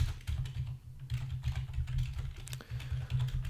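Fingers type code rapidly on a computer keyboard, a dense, close stream of clacking keystrokes with a low steady hum underneath and no talking.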